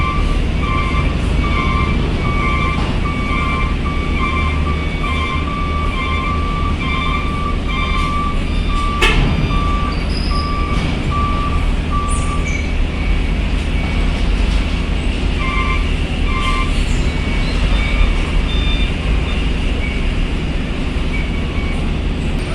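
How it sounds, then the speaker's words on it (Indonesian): Vehicles moving and loading at Bakauheni ferry port, a steady rumble of engines with repeated reversing beeps and one sharp clank partway through, continuous and fairly loud throughout. "pergerakan kendaraan."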